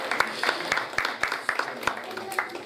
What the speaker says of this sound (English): Round of applause for Martin.